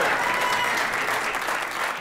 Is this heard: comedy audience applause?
yes